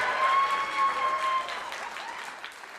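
Audience applause at a live podcast show in Boise, a dense burst of clapping that swells early, then thins and fades gradually over a few seconds, with a steady tone running under the start.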